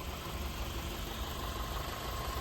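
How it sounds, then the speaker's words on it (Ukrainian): An Audi A3 with a naturally aspirated 2.0 FSI engine idles with a steady, even hum and a faint mechanical rumble, captured close by with no voices. "рівно працює двигун на новій гумі"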